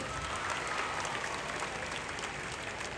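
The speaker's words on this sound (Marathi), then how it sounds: "एकदा जोरदार टाळ्या होत्या स्वतःसाठी." An audience at a motivational speech event claps loudly for themselves, a steady, dense roar of many hands filling the hall without pause.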